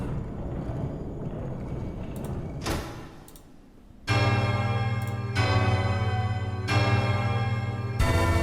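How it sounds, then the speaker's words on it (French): Bell ringing in the video game Hollow Knight: Silksong, several clear, resonant strikes with sustained ringing tones following a quieter stretch of game ambience. "Encore une cloche."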